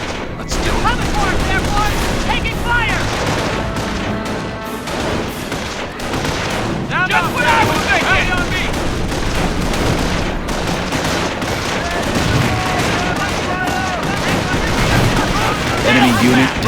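Heavy gunfire from World War II infantry combat in the strategy game Company of Heroes: dense, continuous volleys of rifle and machine-gun shots with booming blasts, loud and unbroken throughout, mixed with shouted voices.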